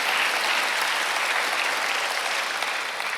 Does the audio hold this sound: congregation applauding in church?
yes